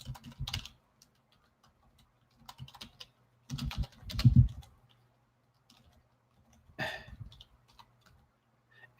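Computer keyboard typing in a quiet room, arriving in short clattering bursts of keystrokes separated by pauses, fairly close and moderately loud with no talk over it.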